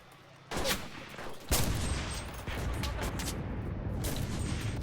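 Rifle gunfire in a video game, a few loud sharp shots ringing out over constant background noise, with someone talking.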